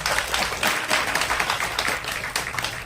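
An audience at a Tamil public gathering applauding, a thick sustained burst of many hands clapping at moderate distance, steady throughout with no talk over it.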